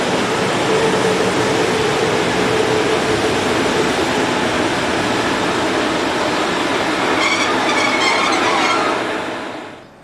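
An ex-East German DB class 143 electric locomotive hauls a passenger train from Trier to Koblenz, passing close by as a loud, steady rumble and roar of wheels on rail that holds for several seconds before cutting off.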